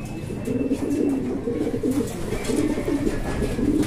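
Racing pigeons being readied for a north race coo continuously and close by, a soft, rolling low murmur that carries through the whole stretch with no talking.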